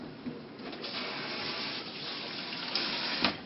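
A kitchen tap runs water for washing hands, making a steady rushing, splashing stream close by that continues throughout with a few brief spattering bursts.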